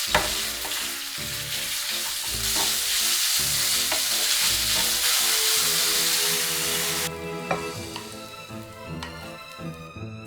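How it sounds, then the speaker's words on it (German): Strips of meat frying in hot oil in a pan for a Chinese-style green bean stir-fry, a loud continuous sizzle with stirring scrapes and clinks that ends in a sharp drop to quieter hissing. "Ein Schuss Öl in die heiße Pfanne. Fleischstreifen kurz braten."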